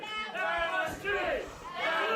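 Wrestling crowd at a live event rumbling and shouting in protest at the referee's ruling, a sustained loud roar of many voices with swelling jeers and cries.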